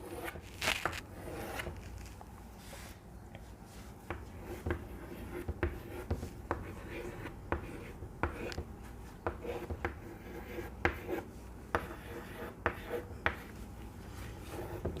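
A pen scratches and taps on paper while diagrams of flowering plants are drawn, with quiet irregular strokes and clicks running throughout at a close, low level.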